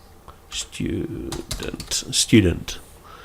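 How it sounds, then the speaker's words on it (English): Clicky computer keyboard keys tapped in short bursts of several strokes at close range while typing a word into Microsoft Access, with a voice speaking over the keystrokes. "And here I'm going to type student."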